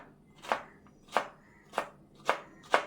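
A knife finely chops okra on a board: five crisp, evenly spaced cuts, each a sharp knock, heard close and alone in a quiet room.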